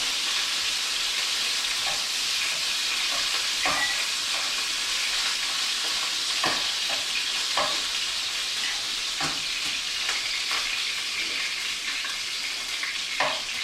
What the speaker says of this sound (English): We got our tomatoes. Hear that? Beautiful sound.